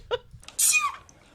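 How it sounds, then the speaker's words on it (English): A comedic sneeze from the TV show Community, a short sharp vocal burst followed by a bright, breathy hiss that trails off, loud and close. "Troy sneezes like a girl."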